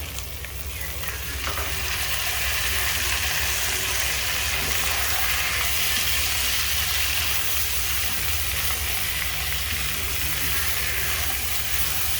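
Small shrimp and taro stolons fry in a pan with a loud, dense, continuous sizzle and hiss that holds steady for the whole stretch, close by and without speech.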